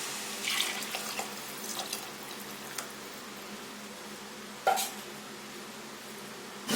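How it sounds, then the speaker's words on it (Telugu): Tamarind juice is poured into a pot of simmering fish curry, giving a steady close liquid pouring and splashing sound with a few louder splashes, no talking. "మనము ముందుగా నానబెట్టి పెట్టుకున్న చింతపండు రసం పోసుకుందాము."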